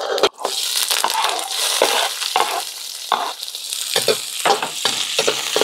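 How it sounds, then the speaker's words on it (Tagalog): Oil heating in a kawali gives a continuous sizzle broken by repeated sharp bursts of stirring and spattering, close and fairly loud. "Unang step natin is mag-init tayo ng mantika sa kawali."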